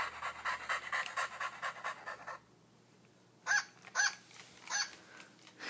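A puppy panting in quick, steady close breaths for a couple of seconds, then a pause followed by three louder, sharper huffs, with no voices.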